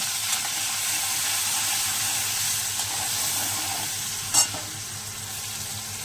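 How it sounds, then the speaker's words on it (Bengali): Onion frying in oil for egg curry gives off a loud, continuous sizzle and hiss, broken by one brief clink partway through. "তাই একটু পেঁয়াজ ভেজে দেবো"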